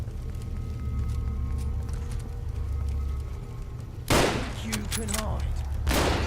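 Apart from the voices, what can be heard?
gunfire in the video game Fallout London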